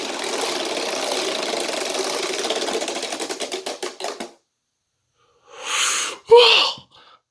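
A homemade Wheel of Fortune model wheel spins, its rapid pointer clicking slowing into spaced ticks before stopping, followed by silence and then two short bursts of nearby sound.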